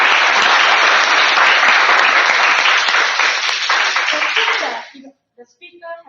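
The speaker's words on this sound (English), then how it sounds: "I think she deserves a round of applause." Loud, dense applause from an audience at a Toastmasters club meeting, sustained for about five seconds before breaking off into a few scattered claps and faint voices.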